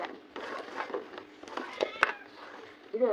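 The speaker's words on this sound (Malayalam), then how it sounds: "നമ്മുടെ വീട്ടിൽ പൂച്ച" A house cat meows a few short times indoors at home amid a children's hide-object game, the calls fairly close and light, partly under overlapping chatter and voices.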